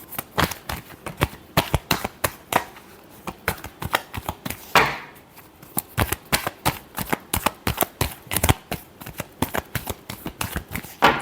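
Tarot cards shuffled by hand in quick, crisp riffles and snaps, a steady run of sharp close bursts lasting throughout, with no voice.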